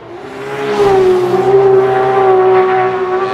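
A Nissan S15 drift car at Formula Drift Irwindale holds a loud, sustained high-revving engine note mixed with continuous tire squeal as it shreds through the course, close and steady with slight pitch wavers.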